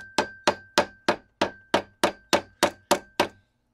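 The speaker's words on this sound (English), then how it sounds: "Take a little soft hammer and get her in the ballpark." A soft hammer taps a roll pin into a Dana 60 kingpin for a CJ7: eleven sharp, evenly spaced strikes with brief ringing decay, close and loud, then silence.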